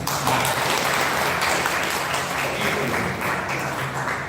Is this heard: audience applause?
yes